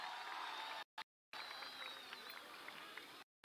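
A large outdoor crowd at a Pakistan Tehreek-e-Insaf rally in Taxila claps and cheers in a dense, continuous roar, with whistles rising above it. The sound cuts out briefly several times.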